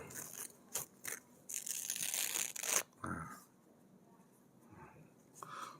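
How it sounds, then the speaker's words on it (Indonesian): White, plain tissue paper torn by hand, a close crinkling, ripping burst lasting a couple of seconds after a few short rustles, followed by quieter handling sounds. "Nah, sekarang tisu yang putih, polos, bersih ini, ya, kita sobek Bapak Ibu."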